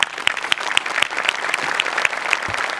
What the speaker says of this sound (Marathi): एकदा जोरदार टाळ्या माझ्यासाठी झाल्या पाहिजेत